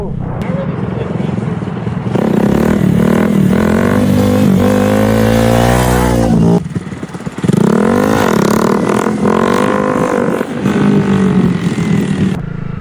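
A motorcycle engine revs hard through wheelies, loud and close, its pitch climbing and falling in repeated surges with a brief drop before roaring again, while a voice talks over parts of it.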